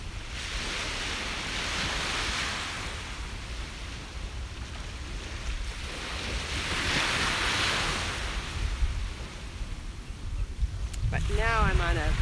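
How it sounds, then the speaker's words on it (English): Ocean waves wash onto a beach in the morning, rolling in as two long, loud surges of broad hissing surf over a constant low wind rumble, with a brief voice speaking near the end. "the waves are so relaxing this morning"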